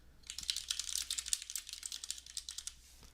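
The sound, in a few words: typing text on a computer keyboard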